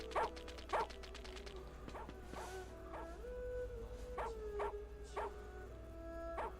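A dog barks repeatedly in short, spaced bursts in the video game Xuan Yuan Sword 3: Mists Beyond the Mountains, over a steady low hum and faint tonal game soundtrack.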